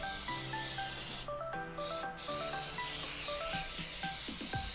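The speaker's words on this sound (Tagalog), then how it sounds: "we're gonna spray this with the olive oil" Olive oil misted from a sprayer onto raw pork meatballs before air frying, a few close hissing spritzes over soft background music.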